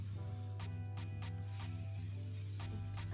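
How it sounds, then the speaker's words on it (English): Brief bursts of spray mousse hiss into hair over a steady low background hum, the loudest spray a sustained whoosh in the middle and another short burst near the end; fairly faint and close. "This is like a spray mousse, so I just spray it in the hair"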